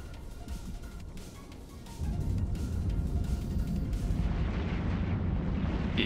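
A ship is destroyed in the space game EVE Online, producing a loud, sustained rumbling blast with crackling debris. The roar deepens and swells partway through, then keeps booming steadily with no voices over it.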